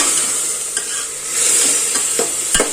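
Vegetables with curd and a squeeze of lemon sauté in a pan, giving a loud, continuous frying hiss broken by occasional scrapes of a stirring spoon.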